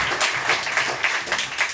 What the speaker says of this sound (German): muss jetzt vor allen Dingen der Stream klatschen